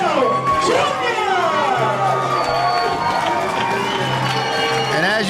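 An arena crowd at an ECPW wrestling show cheers and shouts steadily for the tag team champions, a dense roar running through the whole stretch beneath a commentator's voice.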